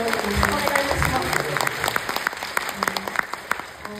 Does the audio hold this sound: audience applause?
yes